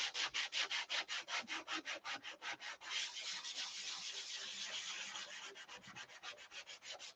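Wood is sanded by hand in rhythmic back-and-forth strokes, first separate rasping passes, then a continuous scrubbing run, then quicker strokes again, close and fairly quiet with no voices.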